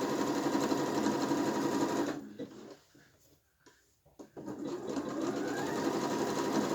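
Domestic sewing machine stitching a T-shirt with a twin needle, a steady close whir that stops for about two seconds with faint handling noises, then resumes and runs on evenly.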